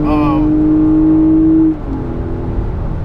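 A 2016 Lexus RX350 F Sport AWD revving in third gear on the highway toward about 4,500 RPM, a loud steady engine drone with a rising whine that drops off abruptly partway through.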